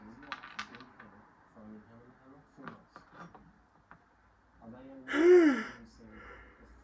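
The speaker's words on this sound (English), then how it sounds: "I keep yawning, man." A man gives a single long, drawn-out yawn close by, rising loudly after a stretch of quiet clicks and small handling sounds.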